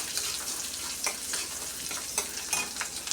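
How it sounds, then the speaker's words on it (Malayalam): Finely chopped garlic fries in oil for Kerala-style egg curry, with a steady close sizzle and several sharper stirring scrapes at irregular intervals. "വെളുത്തുള്ളി ചെറുതായിട്ട് അരിഞ്ഞത് ഇട്ട് കൊടുക്കാം. അതൊന്ന് ചെറുതായിട്ട് മൂപ്പിച്ചെടുത്തതിന് ശേഷം"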